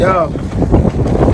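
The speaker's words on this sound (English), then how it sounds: "it's windy out here" Gusty wind buffets the microphone in a low, rumbling roar while someone speaks briefly over it.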